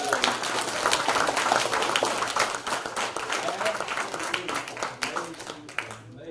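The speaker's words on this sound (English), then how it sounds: "Another round of applause" An audience at an investor panel presentation applauding, a dense burst of clapping that gradually thins toward the end, with a voice talking over it.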